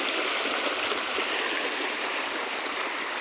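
Flowing water from a stream rushes steadily and loudly, a dense continuous broadband wash with no pauses and no voices.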